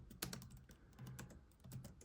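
A few quick keystrokes tap on a laptop keyboard while a short command is typed, close and quiet, with uneven clicks spread across about two seconds.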